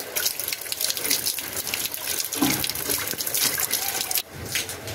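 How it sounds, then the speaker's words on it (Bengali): Large kharkol leaves are washed under running water at a sink, a close, uneven splashing gush that shifts as they are handled and drops off sharply near the end. "এই পাতাগুলোকে আমি প্রথমে ভালো করে ধুয়ে নেব।"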